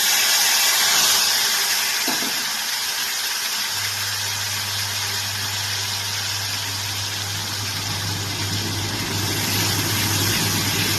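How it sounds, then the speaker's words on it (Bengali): Onion paste and tomato fry in a pan for a spicy tangra fish curry, giving a steady, close sizzling hiss that runs throughout, joined midway by a low continuous hum. "আমি ভালো করে পেঁয়াজটাকে ভেজে নিচ্ছি"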